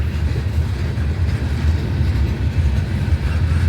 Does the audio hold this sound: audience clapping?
no